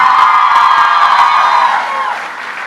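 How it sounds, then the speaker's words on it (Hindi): An audience at a graduation ceremony for a gold medalist's father gives a loud, close roar of cheering voices that slowly fades. "इनके वालिद साहब के लिए भी बहुत सारी तालियां होनी चाहिए जी।"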